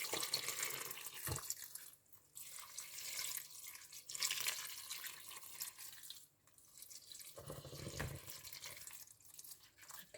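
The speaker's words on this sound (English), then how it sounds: "So I'll pour my distilled water around it." Distilled water pours and trickles in uneven bursts into a pot for making cherry blossom hydrosol, with soft splashing that swells and fades over several seconds.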